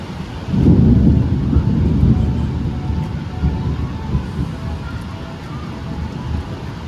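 Loud thunder rumbles in a heavy thunderstorm, with steady rain falling throughout, a deep rolling boom swelling early and then easing into a sustained low roar over continuous rainfall.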